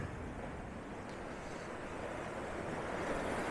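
Sea waves wash against stone steps leading down into the water on a rocky coast, making a continuous rushing, churning roar with some wind noise mixed in.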